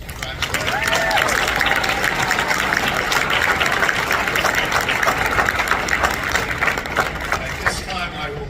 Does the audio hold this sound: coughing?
no